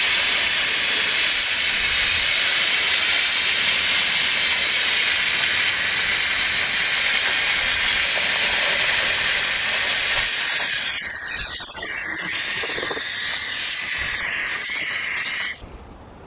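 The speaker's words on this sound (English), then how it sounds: "Let's go ahead and rinse this thing down." A steady hissing water spray rinses pinkish-purple wheel-cleaner foam off a car wheel, running loud and continuous before cutting off abruptly near the end.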